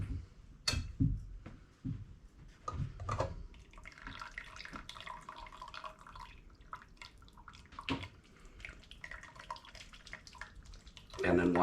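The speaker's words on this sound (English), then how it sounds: "we're going to pour the broth into the colander" Chicken broth pours from a pot through a colander into another pot, giving a steady splashing, trickling flow with scattered clinks of cookware and brief bursts of louder splashing.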